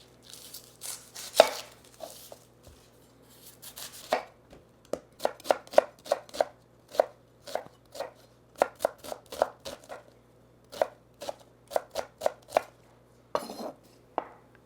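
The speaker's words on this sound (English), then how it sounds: "I'm going to begin by finely chopping this onion" A knife finely chopping an onion on a cutting board for Greek white bean soup, sharp close knocks coming in quick irregular bursts, then a steadier run of evenly spaced cuts, with no talking.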